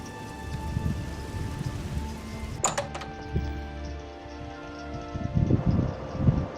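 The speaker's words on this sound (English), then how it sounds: "I'll be able to hear rain sounds" Steady rain from a weather mod in The Elder Scrolls IV: Oblivion patters continuously on surfaces nearby, with a brief higher clatter midway and soft low thumps, with no talk over it.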